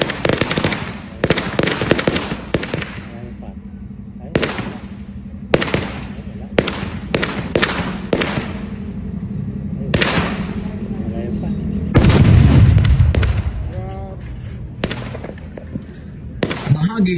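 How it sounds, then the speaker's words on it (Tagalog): Confiscated illegal firecrackers and pyrotechnic devices explode during a ceremonial destruction in Pangasinan, loud sharp cracks in irregular bursts and rapid crackling volleys, with someone speaking between blasts. "isinagawa ang ceremonial destruction ng mga nakumpiskang illegal na paputok at iba pang pyrotechnics devices"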